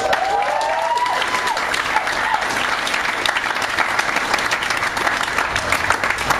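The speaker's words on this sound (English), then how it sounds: "please clap for them." Concert audience at a small pub venue applauding loudly and steadily, a dense wash of clapping and crowd noise that holds at full strength for the whole stretch.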